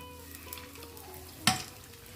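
Sweet Korean-style beignets frying in hot oil, a soft steady sizzle with one sharp crackle or clatter partway through, no voices.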